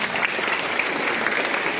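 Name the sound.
audience applause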